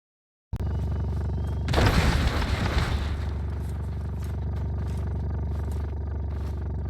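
Explosive canisters detonating in the Scrap Mechanic video game: a sudden loud blast bursts in, followed by a roughly one-second crackling, clattering burst, then a steady low engine-like drone continues with scattered small clicks, no talking.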